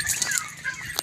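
A bantam chicken clucking nearby in a poultry range, a few short sharp clucks and squawks in quick succession over about a second.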